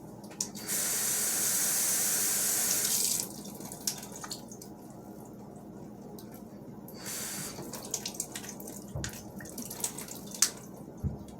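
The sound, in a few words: water pouring into a container to regrow grocery plants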